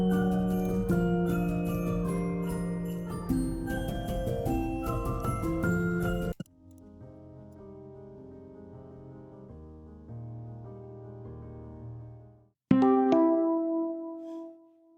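Game over sound effect in a Unity mobile video game: a busy musical loop cuts out, a softer descending tune follows, then a sudden bright chime stings near the end, all fairly quiet.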